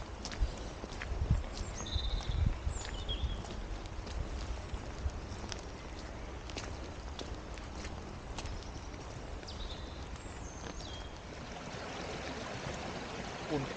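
A forest brook trickling and babbling steadily at low level, with faint footsteps squelching on muddy ground and occasional bird calls in the background.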